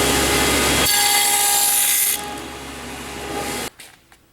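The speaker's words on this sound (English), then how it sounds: "we're going to cut a 3/8 deep rabbet that is 5/8 of an inch into the wood here" A power tool cuts a 3/8-inch-deep, 5/8-inch-wide rabbet into a wooden board for a queen cell starter box, running as a loud steady whine that drops in pitch partway through and then cuts off abruptly.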